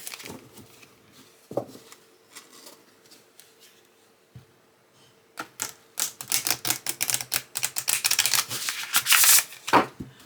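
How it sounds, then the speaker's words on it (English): Cards being riffle shuffled: scattered soft clicks at first, then a dense, rapid fluttering patter of cards interleaving, growing louder near the end. "The riffle shuffle."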